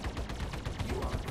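Rapid bursts of small weapons fire from the ARMD flight game, a dense, continuous crackle of shots packed close together and loud throughout, with no pauses.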